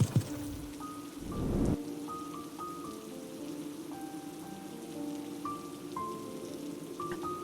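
Steady rain patters on a surface on a secluded road beside a broken-down car, with a brief rush of louder noise near the start and soft tonal beeps sounding now and then.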